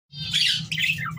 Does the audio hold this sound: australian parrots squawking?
yes